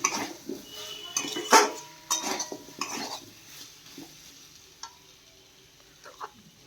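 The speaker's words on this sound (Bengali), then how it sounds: "আগে আদা রসুন পেঁয়াজ সবই দিয়েছি জিরে গুঁড়ো ভালো করে কষিয়ে নিচ্ছি" Ginger, garlic, onion and cumin powder frying in a pan for a broccoli potato curry, with intermittent metallic scraping and clinks of a stirring utensil over a low sizzle, close, sharper at first and easing off, without speech.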